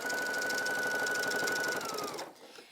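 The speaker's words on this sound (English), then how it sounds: "keep your needle centered while you sew down the middle of the waistband" A sewing machine stitches down a fabric waistband in one steady, rapid run of needle strokes at close range. A faint whine rides along until the motor winds down and stops near the end.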